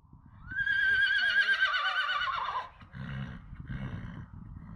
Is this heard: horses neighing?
yes